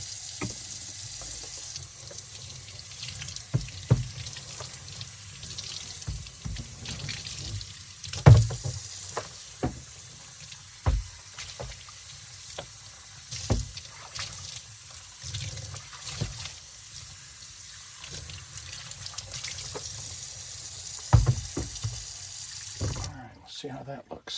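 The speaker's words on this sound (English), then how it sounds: "And we'll rinse off." Tap water runs steadily into a sink while vacuum cleaner parts are rinsed, with intermittent clunks and splashes as the parts are handled, ending abruptly.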